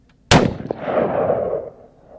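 A single loud rifle shot at a range cracks sharply close by, then a long rolling echo decays over about a second and a half.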